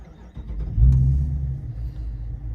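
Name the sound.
Dodge Challenger RT special edition engine starting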